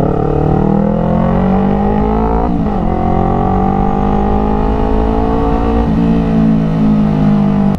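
A Yamaha R3 Limited Edition motorcycle engine revs loudly and close toward 12,000 RPM, the pitch climbing steadily with brief dips as the throttle is eased and reapplied.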